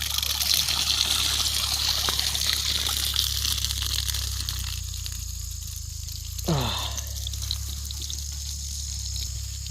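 Water trickles and gurgles through a maple sap line being flushed clean, a steady low flow with a brief splashing gush partway through, no talk.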